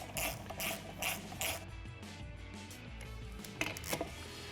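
Quick bursts of ratchet clicking come from a socket ratchet running nuts down onto the wheel studs of a Hutchinson beadlock wheel fitted with a 37x12.50 Nitto Trail Grappler tire. The clicking arrives in close repeated spurts with brief pauses between them.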